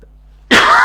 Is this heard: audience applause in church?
no